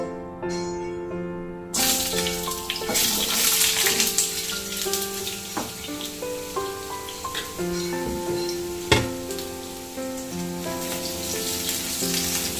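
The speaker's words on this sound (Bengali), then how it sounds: "তেল গরম হয়ে গেছে এবার আমি প্রথমে কুমড়োটা ভেজে দেব" Pumpkin pieces frying in hot oil in a kadai, a continuous soft sizzle sitting beneath louder melodic background music for the whole stretch, with no talking.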